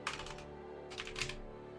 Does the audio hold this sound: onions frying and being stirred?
no